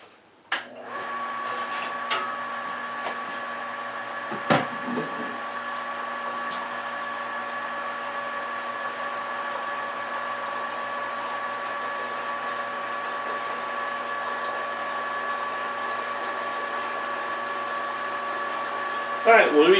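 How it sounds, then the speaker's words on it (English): An electric pump hums steadily while transferring homebrewed English dark mild ale wort into a fermenter, a constant tonal whir with a few brief knocks and clunks, ending in a louder burst of handling noise. "we're going to pump our wort over into our fermenter"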